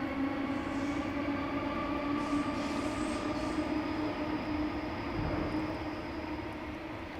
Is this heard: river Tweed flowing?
no